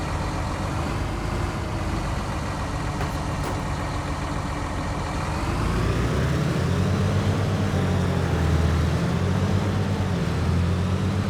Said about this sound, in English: The world's fastest tractor.